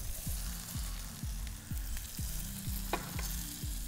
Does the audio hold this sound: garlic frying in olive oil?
yes